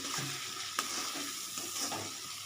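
Semolina for upma is stirred in a frying pan, a soft sizzle under scraping strokes of a spoon with a couple of sharp clicks against the pan, close and steady.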